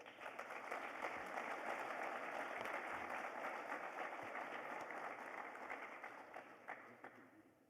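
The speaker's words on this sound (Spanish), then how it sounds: "Le damos un aplauso, por favor." Sustained audience applause at a theology conference, a broad continuous wash of clapping from a large crowd that holds steady for several seconds and slowly thins toward the end.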